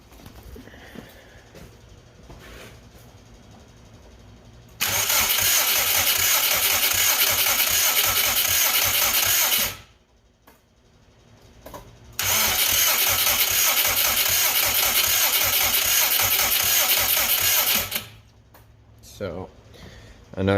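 A Subaru WRX Brat engine cranks without spark in two long starter bursts of about five seconds each, loud, whirring and even, never catching, with quieter pauses and some speech between them.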